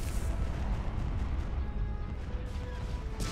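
Starship weapons fire in the space strategy game Star Wars: Empire at War: Forces of Corruption, a dense, continuous rumble of cannon blasts and explosions with no clear gaps.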